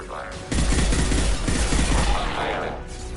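Rapid bursts of automatic gunfire in the Mass Effect 2 video game, a dense, loud fusillade lasting a few seconds with sparse game voice lines.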